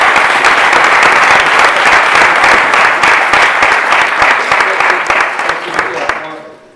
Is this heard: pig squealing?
no